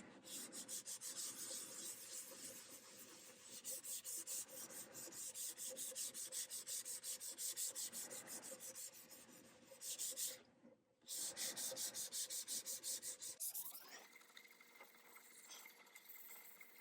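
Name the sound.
sanding acoustic guitar neck with sandpaper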